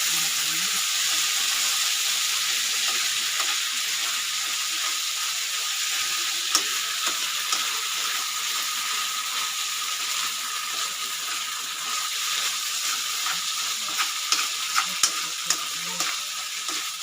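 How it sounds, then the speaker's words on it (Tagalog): Ketchup and vegetables are stirred in a frying pan, a continuous hissing sizzle under repeated scraping and clinking of the spoon against the pan, with occasional sharper knocks toward the end. "Haluin natin ang ketchup at saka ang gulay."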